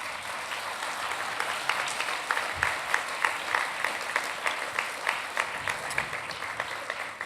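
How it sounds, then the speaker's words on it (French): Festival audience applauding the cast at the opening of a film festival on energy, a steady crowd clapping with distinct individual claps standing out, moderately loud and continuous without talk. "Vous voudrez bien applaudir l'ensemble de la distribution qui a ouvert ce festival."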